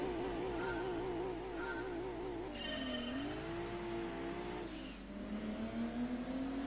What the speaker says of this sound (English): And I can tell this car is a turbo.